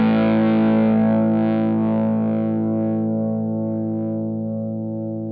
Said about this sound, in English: Here's another chord where I hold the sustain and you can just hear, for such a small amp, it's just amazing.